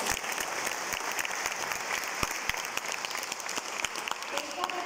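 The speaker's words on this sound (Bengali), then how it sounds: "প্রথমে তো আমি আপনাদেরকে বলবো নিজের জন্য একবার জোরদার হাততালি" Steady, dense applause from a live audience at a motivational training session, with many hands clapping close together and no clear gaps for the full length.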